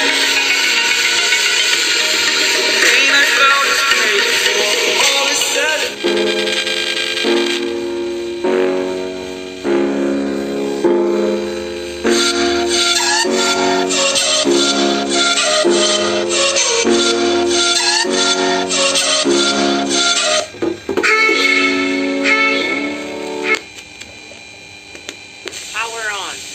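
Music plays through a small, thin-sounding homemade Bluetooth speaker, with a rhythmic beat and melody continuing steadily throughout, close to the listener.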